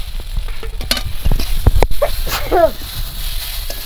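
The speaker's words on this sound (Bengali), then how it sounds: "এবার ভেজে রাখা এই যে পাট খসলা মাছগুলো দিয়ে দিলাম।" Fried pat khosla fish added to boiled potatoes and spices cooking in a pan, loud close clanks and scrapes of a spatula over a frying sizzle, with a brief voice-like sound.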